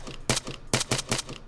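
Gunfire in the video game Arma 3, several sharp shots in quick uneven succession, loud and close, with no talk over them.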